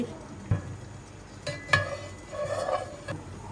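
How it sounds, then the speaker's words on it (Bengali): A chechra, a vegetable-stem dish, cooks in a pan, with a soft sizzle under occasional scrapes and clinks of a spoon being stirred against the metal, quiet and close. "ছেঁচড়া রান্না তুলে দিচ্ছি"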